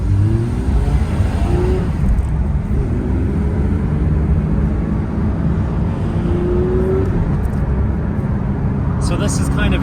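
A Porsche 911 ST engine roars steadily nearby with brief rising revs, its deep rumble dominating, while people talk faintly underneath.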